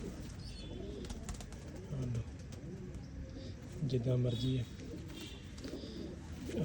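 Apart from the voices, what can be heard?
pigeons cooing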